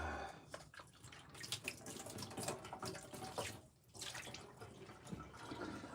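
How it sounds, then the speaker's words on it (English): An item rinsed under a running kitchen tap, with continuous splashing water that briefly dips as the stream is interrupted, then resumes, close and fairly quiet. "let me just rinse it off"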